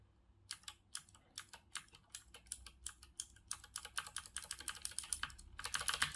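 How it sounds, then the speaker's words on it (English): Typing on a pre-lubed Kemove DK61 Snowfox 60% mechanical keyboard with Gateron Brown switches, a rapid run of soft, muted clacks that speeds up and grows denser toward the end, close and clear in a quiet room. "Now obviously the keyboard comes pre-lubed, and that's pretty obvious from this sound"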